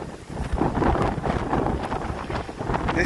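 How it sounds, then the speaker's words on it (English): Strong gusts buffet a microphone outdoors while walking in Waikiki, a loud, rumbling, uneven roar that swells and dips throughout without pause. "This fucking wind is awesome"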